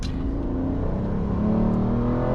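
An Aston Martin Rapide on a highway on-ramp accelerates hard under full throttle after a paddle downshift, its engine note loud, close and rising steadily as it pulls through the revs, with no talking.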